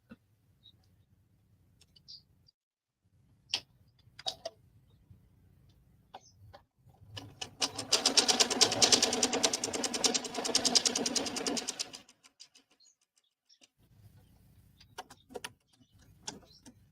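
A sewing machine stitches a charity quilt in one steady, loud, rapid run of several seconds. Quieter motor hum and a few clicks come before and after it, close to the microphone.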